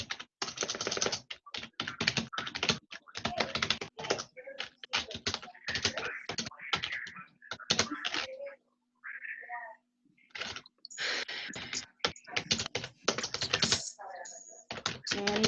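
Several people typing on computer keyboards, a dense, steady clatter of rapid close keystrokes with brief pauses and a few softer scattered clicks.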